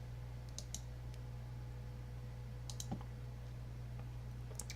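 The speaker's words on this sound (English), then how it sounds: "And you just click and drag, left click and drag." Computer mouse clicks sound while a mesh is outlined in DragonBones animation software, a few faint, sparse clicks, some in quick pairs, over a steady low electrical hum.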